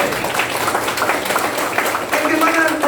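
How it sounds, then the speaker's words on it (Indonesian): An audience at a business seminar bursts into dense, steady applause, many hands clapping loudly throughout, with speech mixed in. "Tepuk tangan."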